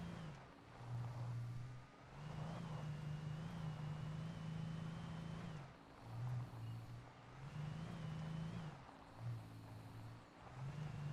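A car drives in the video game Alan Wake, its engine humming at a steady low pitch and surging in repeated waves as it accelerates, with no talking.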